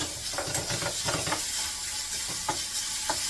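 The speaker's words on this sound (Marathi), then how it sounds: "आता हे कांदा टमाटा परतते, त्यातच मीठ घालून देते." Chopped onion and tomato sautéing in a pan with salt for paneer bhurji, a steady wet sizzle broken by repeated spatula stirs and scrapes at an uneven rhythm, close and fairly loud.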